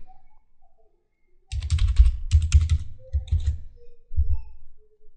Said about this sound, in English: We'll provide our username as well as a password.